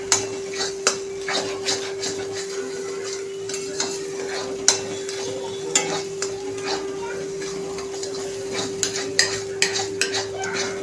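Egg bhurji being stirred in a pan: a steady low sizzle with repeated sharp scrapes and taps of a spatula against the pan, close and continuous throughout, with a constant faint tone underneath and no talking.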